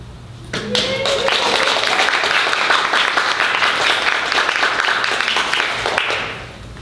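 An audience at a poetry reading in a bookstore breaks into sustained, vigorous clapping that swells quickly, holds steady for several seconds and then tapers off.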